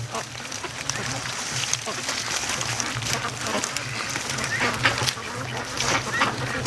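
A large flock of free range ducks quacks in a dense, continuous outdoor chorus, many overlapping calls close by with some honking, with a person speaking faintly among them.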